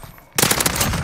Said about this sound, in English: UAV beginning to fire.